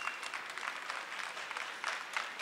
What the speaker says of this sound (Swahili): Hongera sana, jipigieni makofi wote.